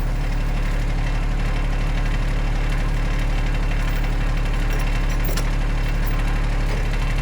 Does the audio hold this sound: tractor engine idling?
yes